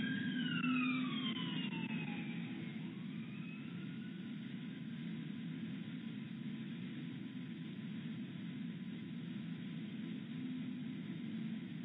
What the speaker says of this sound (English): Sorry, we have an ambulance going by our window.